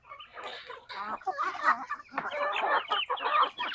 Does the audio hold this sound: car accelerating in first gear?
no